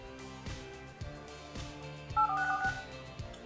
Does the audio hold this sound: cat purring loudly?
no